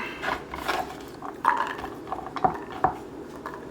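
Cut vegetable pieces for a vegan seafood platter are set onto a plate in a home kitchen, a few light clinks and taps of food and utensil against the dish, close and sparse.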